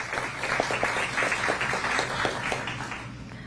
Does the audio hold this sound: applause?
yes